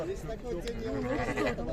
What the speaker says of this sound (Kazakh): Козулу койлор екен.